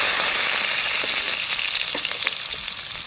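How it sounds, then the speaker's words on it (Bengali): Chopped onion, cumin and bay leaf fry in hot oil with a loud, steady close sizzle and a few faint crackles. "এখন আমি মশলাটাকে, পেঁয়াজটাকে লাল করে ভেজে নেব।"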